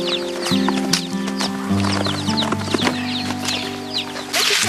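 Hens cluck in a busy poultry yard where they are fed oven-roasted eggshells, with overlapping calls continuing throughout against steady tonal background sound and no talking.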